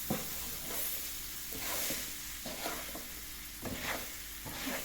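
Peppers frying in a pan for paella, a steady close sizzle with repeated scraping stirs of a utensil against the pan, no talking.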